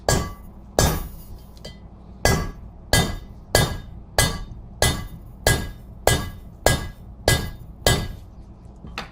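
Steady hammer blows drive valve guides out of a 1999 Eclipse GS 420a engine head, about a dozen sharp metallic strikes at an even rhythm, close and loud with no talking.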